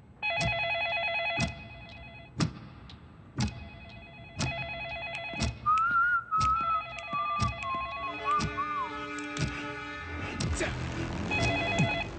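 A telephone rings unanswered repeatedly in short bursts, with sharp knocks between rings and a tonal electronic sound partway through, then more ringing toward the end, in a movie scene.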